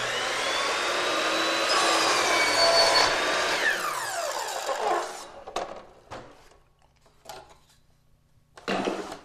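A miter saw swung to the opposite miter cuts an inside corner in wood, long point against the fence: a loud sustained whine spins down after the cut, followed by a few short knocks and handling clatter.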